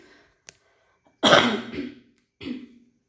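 A single loud, close cough followed by a smaller second cough, after a brief click, in an otherwise quiet room.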